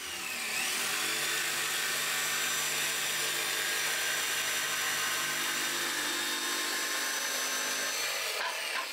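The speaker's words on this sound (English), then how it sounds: "I'll cut that with the jigsaw." A jigsaw cuts a ring from wood for a shop vac cyclone, making a loud, continuous buzzing rasp that runs steadily close by before stopping abruptly at the end.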